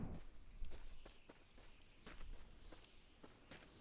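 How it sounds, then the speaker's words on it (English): Footsteps in The Long Drive video game thud faintly in a steady, slow walking rhythm over a low background hiss, distant and quiet. "Something's not right here, man. I hear footsteps."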